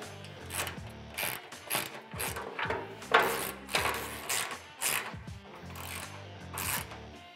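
Ratchet wrench tightening bolts on a rear storage rack for a Kawasaki Mule FX utility vehicle, close and clear, giving repeated short bursts of clicking strokes with brief pauses between them.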